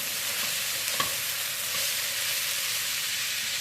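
Vegetables for cabbage Alfredo chicken fry and sizzle in a pan, browning until slightly burnt, making a steady, fairly quiet hiss with one brief clink, and no voices.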